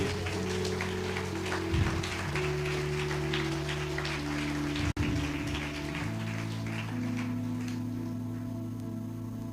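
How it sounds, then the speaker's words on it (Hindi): A church congregation claps loudly for the Lord, a dense, steady patter of many hands over sustained keyboard music, with one sharp knock partway through. "जोर से ताली बजाए प्रभु के लिए"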